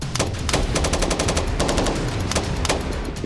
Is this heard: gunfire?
yes